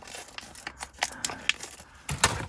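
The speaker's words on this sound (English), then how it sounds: "If I can get into the packet, let's cut the top off of this." Scissors snipping the top off a plastic packet holding Tamiya RC car parts, a handful of crisp, close cuts with light crinkling, quiet and with no talk.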